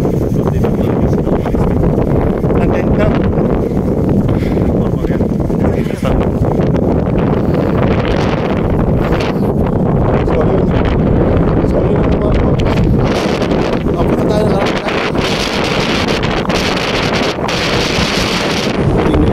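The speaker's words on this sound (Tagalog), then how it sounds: "talagang napakalakas ng hangin, hindi na nga marinig yung sinasabi ko" Strong coastal wind in Mabini, Batangas batters the microphone, a loud, constant rumbling roar that almost buries a voice trying to talk through it.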